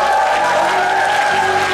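An audience at a school children's recital claps steadily to vote for the best couple, a dense, continuous wash of applause with a faint tonal hum running underneath throughout.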